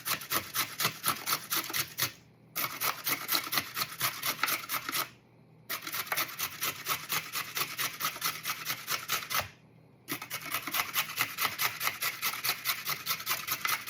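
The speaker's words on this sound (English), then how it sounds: "So I'm going to go ahead and grate my carrot." A carrot is grated by hand in steady, rapid rasping strokes that come in three long bursts separated by short pauses, close and fairly loud, with no talking.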